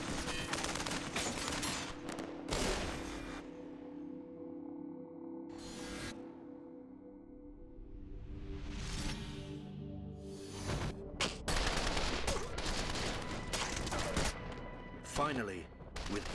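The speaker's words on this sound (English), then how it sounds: "I proned out, aimed, and continued to fire at the suspect." Gunfire from a police shootout with a heavily armored suspect, as an officer fires from a prone position. Loud bursts and sharp reports come in dense clusters, mixed with music and other dramatic sound, with a brief quiet stretch in the middle.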